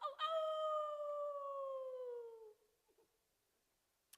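A voice imitates a wolf, giving one long sliding howl that falls steadily in pitch for about two seconds, then fades into quiet.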